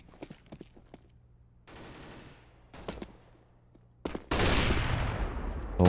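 Gunfire in a Counter-Strike: Global Offensive match on the Mirage map: several sharp, separate shots ring out, then a louder, sustained burst of firing near the end, with no talk over it.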